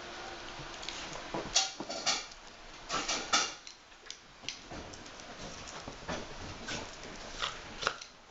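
A dog shakes itself dry, producing bursts of flapping and rattling with a patter of flung droplets, several rapid shakes spread across the clip, close by.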